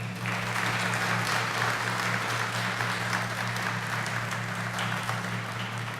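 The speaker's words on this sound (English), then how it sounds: "A round of applause" Steady applause from a crowd at a retirement ceremony for a departing shipmate, with even clapping running the whole time beneath a low, constant hum.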